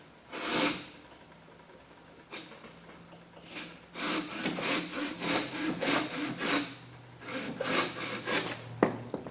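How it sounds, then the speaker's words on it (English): A Silky Gomboy 300 mm straight-blade, large-tooth folding saw cuts through wood. One rasping stroke comes first, then a steady run of about eight close, crisp back-and-forth strokes. "moving on to the Silky Gomboy 300 millimeter straight blade large tooth"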